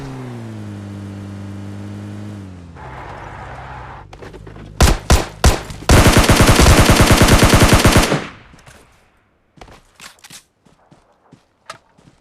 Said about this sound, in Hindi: एक गन शॉट आती है बॉट की